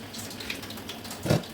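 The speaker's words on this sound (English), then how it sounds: "This is the water I use to boil the fish. I will add it inside." Boiling stockfish water poured into couscous, a short gush of liquid splashing in near and moderately loud toward the end over a low background hiss.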